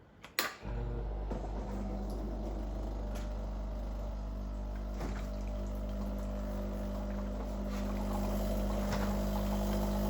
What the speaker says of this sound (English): I'll run about 15 to 20 seconds of water to warm things up